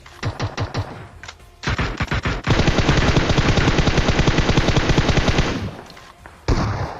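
M4 rifle fire in an online shooter game: rapid automatic bursts, one short and one long sustained stream of loud, close shots, with brief gaps and a final burst.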